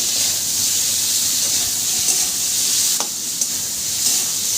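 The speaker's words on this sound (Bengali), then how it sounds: "ভালো করে নাড়াচাড়া করতে হবে" Steady sizzling hiss from a pan of sambar curry on the heat, with a few soft scraping taps of a spoon stirring now and then.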